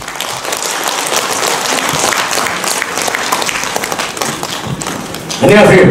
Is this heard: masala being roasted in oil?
no